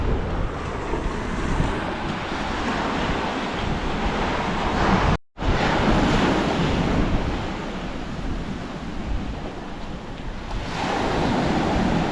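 Steady roar of sea surf washing against the shore with gusty wind buffeting the microphone, broken once by a brief moment of silence.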